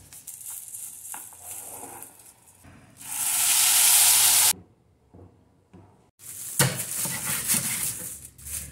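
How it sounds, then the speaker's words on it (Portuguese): Rice sautéing in red olive oil with grated garlic in a home kitchen pan, a loud bright sizzle bursting in for about a second and a half, dropping away, then returning strongly with scraping stirs. "Vou refogar um arroz"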